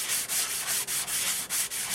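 A dried sunflower stalk is sanded by hand with sandpaper while being twisted, giving a steady, close, rhythmic scratchy rasp in about eight quick strokes with brief gaps between them and no voices.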